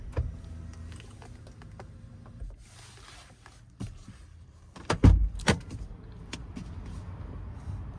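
A Lexus RX300 engine idles low at the start and cuts off, leaving quiet interior sounds followed by several sharp clicks and thumps from the door locks.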